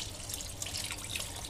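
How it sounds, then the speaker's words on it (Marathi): Water pours steadily into a simmering curry gravy for raw banana kofta, a continuous splashing, faucet-like rush heard close up with no talk. "आता आपण यात ना 2 ग्लास पाणी घालून घेणार आहोत त्या ग्रेव्हीमध्ये"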